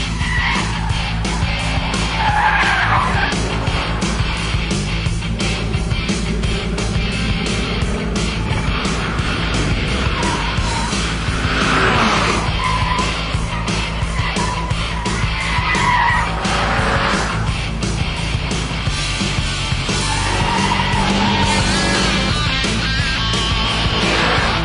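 Lotus Elise sports car pushed hard around a race track, its engine roaring continuously with repeated tyre squeals and skidding as it corners, loud and close throughout.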